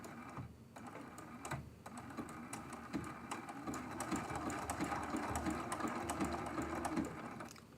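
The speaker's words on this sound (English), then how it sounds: "we're going to stitch this little edge of the flower" Domestic sewing machine stitching along the small edge of a quilt flower block, its steady rapid needle chatter running continuously and fairly close, with no talk over it.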